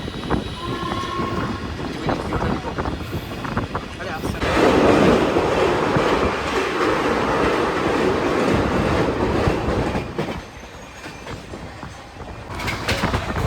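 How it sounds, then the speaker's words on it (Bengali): The Kaziranga Express races past Gadadharpur Road on the Kolkata to Tarapith route with a loud, continuous rumble and rhythmic clatter that swells, then eases, heard from on board. "আমাদের ট্রেন এখন দ্রুত গতিতে ক্রস করছে গদাধরপুর রোড।"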